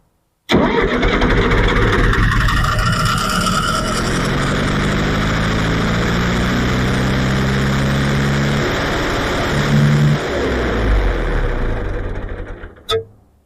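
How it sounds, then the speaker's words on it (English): A John Deere 401C engine cranks and struggles to start, a loud steady churning that runs for about nine seconds, stops, then briefly resumes before cutting off. "Now it might not fire up right away because that pump, because we emptied it."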